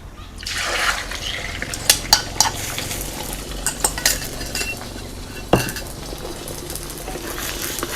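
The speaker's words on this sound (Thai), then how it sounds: "พอ น้ำมันร้อนแล้วเราก็ใส่ไข่ลงไปได้เลย" Steady sizzling of an egg frying in hot oil in a pan, with scattered sharp clinks and scrapes of a utensil against metal throughout.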